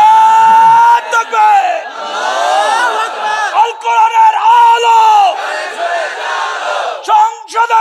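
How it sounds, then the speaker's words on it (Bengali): A large crowd at a Bangladeshi Islamic sermon by Mufti Kazi Ibrahim shouts the takbir, 'Allahu Akbar', in loud, sustained, chant-like waves that fill the whole stretch, with only brief dips between calls. "তাকবীর দাও না মিয়া।"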